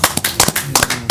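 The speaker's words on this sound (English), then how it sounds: "Give the Lord a hand clap for that." A few sharp hand claps from a church congregation, sparse and uneven bursts spaced out over about a second, loud and close with no talk over them.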